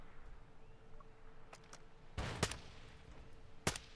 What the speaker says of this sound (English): Can you try the silenced weapon?